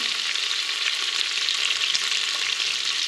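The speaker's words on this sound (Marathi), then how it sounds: "मी हे व्यवस्थित हलवून घेणार आहे" Bitter gourd pickle with lemon, turmeric and salt stirred in a pan, giving a steady, close hiss of oily sizzling with no pauses and no voices.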